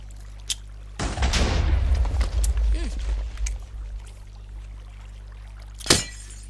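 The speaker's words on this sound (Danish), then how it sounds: "Hvad var det lige, der sprang i luften der?" A TNT explosion in Minecraft hits as a sudden loud rumbling boom that decays over a couple of seconds, with faint game sounds around it and a sharp click near the end.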